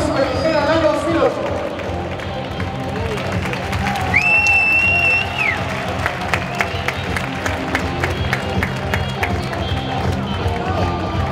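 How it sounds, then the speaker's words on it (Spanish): Applause from a crowd at a Copa Asturbox boxing event ceremony honouring a former Spanish super lightweight champion, steady clapping and cheers running throughout beneath someone speaking over a loudspeaker. "Un aplauso fuerte"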